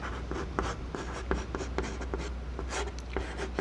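Pen or chalk scratches out a class 10 maths solution of linear equations in two variables, giving a steady run of short strokes and taps over a low constant hum, near and moderately loud, with no talking.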